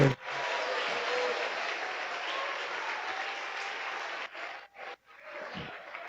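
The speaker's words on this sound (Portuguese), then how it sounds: "Aplauda Jesus de Nazaré." A church congregation at a Sunday communion service breaks into loud, dense applause that holds steady for about four seconds, then breaks off in a couple of short gaps and fades.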